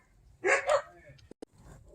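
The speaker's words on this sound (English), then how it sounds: "the neighbor dogs are having an incident over there" Neighbor dogs barking in the distance, two quick muffled barks followed by a couple of sharp clicks, faint against a quiet garden setting.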